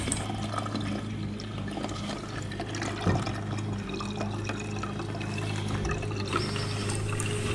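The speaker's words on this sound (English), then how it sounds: "you use the funnel or something like that some container to, to drain drain this completely off." Coolant drains from the cooling system of a Suzuki SV 1000 motorcycle, a steady pouring and trickling of liquid into a container, continuous and close, over a faint low hum, with no talking.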